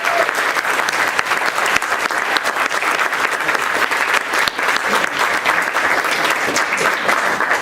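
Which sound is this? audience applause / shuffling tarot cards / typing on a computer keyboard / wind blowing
audience applause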